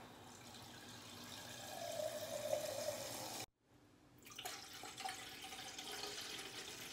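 Water pours and trickles into a coffee machine's reservoir for a cappuccino, a faint splashing stream that cuts out abruptly midway, then resumes with softer gurgles and drips.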